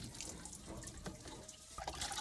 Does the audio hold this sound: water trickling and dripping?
yes